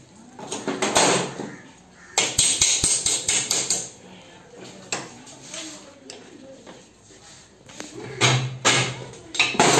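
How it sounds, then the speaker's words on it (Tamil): Sharp metallic hammer taps striking a Yamaha motorbike wheel axle to drive it out, delivered in short uneven clusters with quieter gaps, alongside someone talking in the workshop. "வீல் போட்டு தட்டி எடுப்போம்."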